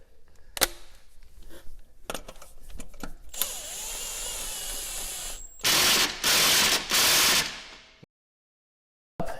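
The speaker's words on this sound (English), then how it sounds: "use this hex that's provided with the kit" A provided hex key tightening the bolt on a Duraclutch Model 15-520 clutch during installation, giving close, sharp clicks and brief ratcheting bursts, then a few loud scraping spurts before stopping.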